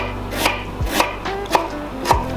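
Knife chopping an onion on a cutting board, four evenly spaced, crisp chops with a dull thud under each, close and clear with no talk.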